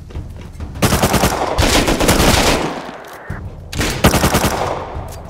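LR rifle fire in the game Rust, loud bursts of rapid automatic shots in several volleys with short pauses between them.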